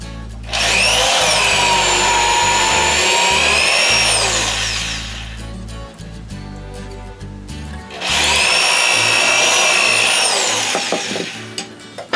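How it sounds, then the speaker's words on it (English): A power drill bores through plywood in two loud bursts, whining and grinding, with a quieter pause of rattling and handling between them. "I'll drill the holes."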